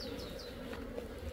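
Honeybees buzz around a sugar syrup feeder, a faint, wavering insect drone with a few rising and falling buzzes as individual bees pass close, no voices.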